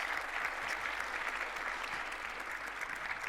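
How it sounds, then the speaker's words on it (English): An audience at a radio industry conference session applauds steadily, a dense even wash of clapping from a roomful of people for the whole stretch. "So can we have a round of applause, please,"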